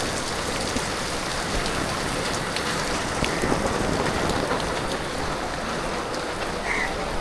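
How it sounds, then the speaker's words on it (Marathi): Heavy monsoon rain pouring steadily in Mumbai, a dense, continuous roar of downpour close by with no talk over it. "खूपच जोरात पाऊस पडतो."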